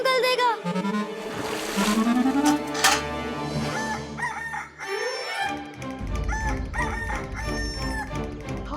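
A rooster crows loudly and close, a long rising and falling call, followed by further clucking and squawking over a noisy background.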